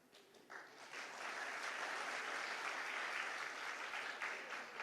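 A crowd applauds at a religious gathering in Madhya Pradesh, with dense, steady clapping that swells in after a brief quieter start and stays continuous to the end. No voices are heard.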